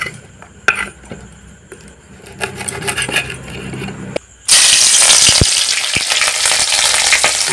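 Oil in a pan for an Odisha-style chicken curry, first a quieter crackle with clinks, then a sudden loud, dense sizzle as something hits the hot oil and keeps frying steadily up close.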